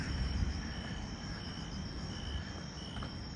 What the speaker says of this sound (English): you can hear the animals, right? The insects, maybe some frogs as well.